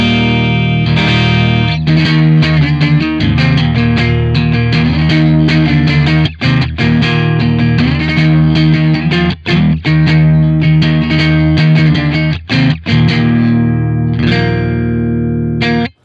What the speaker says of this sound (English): If we turn it down, we're gonna get a mid-scoop sound